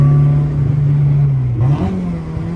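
A Honda RSX Type S with a swapped K24 engine accelerates up a hill, its steady, loud engine note rising in pitch and then climbing again after a gear change, heard close from inside the car.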